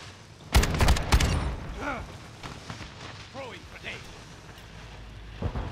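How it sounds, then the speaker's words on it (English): Grenade explosion in the video game DMZ, a loud broadband burst of blasts near the start followed by fainter game sounds and rumbling, with chatter and other game audio around it. "Throwing grenade."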